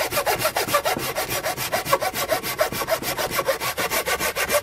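A hand saw cutting through wood in quick, even back-and-forth strokes, each stroke a rasping pulse repeating close and loud throughout without any talking.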